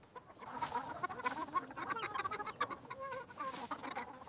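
A farm hen clucks in a rapid string of short, irregular calls, fairly faint and alone with no talking over it.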